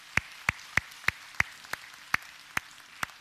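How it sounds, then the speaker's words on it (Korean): A church congregation claps in steady unison, nine sharp, evenly spaced claps in about three seconds, each crisp and distinct against a quiet hall with no talking. "우리 하나님께 영광의 박수 올리겠습니다"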